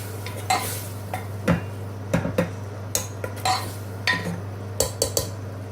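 A spoon stirs turmeric, coriander, red chili and cumin powder as they roast in a pan: a string of sharp metallic scrapes and clinks at an irregular pace, close by, with no talk.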